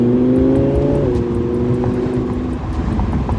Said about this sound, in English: You hear the exhaust note a little more. You hear the crackles and pops.